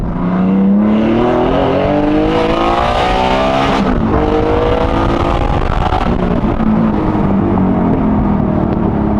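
A 4.5-litre Porsche GT3 Touring engine, 606 horsepower, revs and climbs through the gears, pitch rising and falling repeatedly with a deep, throaty roar up close.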